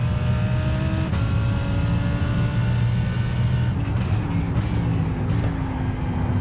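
The 39 race car's engine drones loud and steady on track, with harmonic tones sliding down under braking into a corner and other engine noise layered beneath, without pause.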